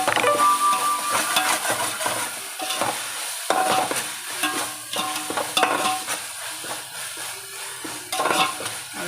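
Ginger garlic paste sautéing in hot oil in a pan for biryani, with steady sizzling broken by repeated scraping and stirring strokes and clinks of a utensil against the pot, close and fairly loud.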